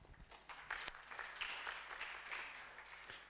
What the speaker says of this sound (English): clap for yourself for showing up